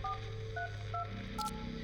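Keypad tones tapped in a short sequence on a phone inside a horror video game, a few distinct beeps spaced apart over a low steady background hum.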